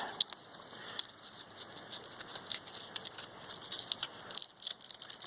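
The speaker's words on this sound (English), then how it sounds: "abrasive cloth, I guess, not paper." Abrasive cloth for cleaning copper pipe is handled while a Pengor Penguin steering assembly is reassembled, making close, soft, continuous crinkling and rustling with small crackly pops throughout.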